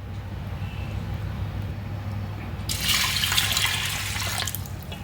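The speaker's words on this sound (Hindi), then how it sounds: "और अब इसमें डालेंगे थोड़ा सा पानी।" Water pours into a pressure cooker holding lentils in a steady splashing stream partway through, following a quiet stretch with low background hum.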